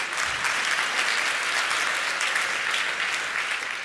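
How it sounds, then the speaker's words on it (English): An audience at the 2013 30c3 conference talk breaks into steady, dense applause, sustained evenly throughout at moderate loudness with no speech over it. "Please give a warm round of applause to Jake."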